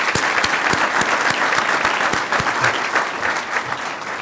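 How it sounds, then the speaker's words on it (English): Applause at the 2023 Options Schools commencement ceremony, a loud, sustained burst of many hands clapping together, with a few sharper individual claps standing out and a soft murmur of crowd voices beneath. "Another round of applause."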